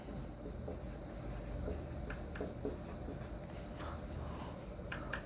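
A marker squeaks and rubs across a board in short strokes while writing a table on basic electricity, close and continuous over a low room hum, with someone speaking throughout.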